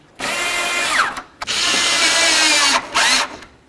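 A power tool drives and snugs up the screws on a marker light of a 1988-2000 Chevy C/K1500, three loud, close whirring bursts with the motor pitch rising and dropping as each one stops.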